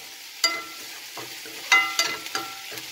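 Onions sauté in a pan while cooking banana puttu, a faint soft sizzle broken by several sharp scraping clinks of a spatula stirring against the pan.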